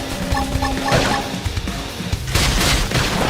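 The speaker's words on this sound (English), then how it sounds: "Topple them with gunfire." Loud bursts of rapid gunfire mixed with booming impacts and clatter, a dense, noisy stretch of close-up combat sounds in the video game Xenoblade Chronicles X Definitive Edition.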